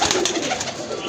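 A Teddy pigeon coos continuously and close by, a soft, full throaty murmur with no pauses.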